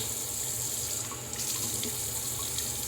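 Steady running water from a tap pours continuously, a broad hiss with splashing, close by and fairly loud, with no talking.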